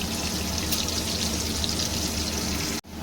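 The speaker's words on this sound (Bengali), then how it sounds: "শুধু নুন দিয়ে আলুটা ভেজে তুলব।" Potatoes frying in hot oil with salt: a steady, close hiss and crackle of sizzling that continues without a break, dropping out briefly just before the end, with no talk.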